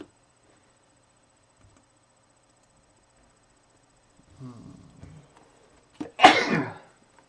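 A single sharp sneeze sounds close by after a faint breathy intake, preceded by a brief murmur during a card game match.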